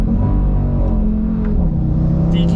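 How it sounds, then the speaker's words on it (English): Low, steady engine drone with a rumbling undertone inside a 650 bhp Audi RS3 with a DQ500 gearbox while it drives, with a few brief mechanical chirps near the end and no talking. "likes to make these funny noises"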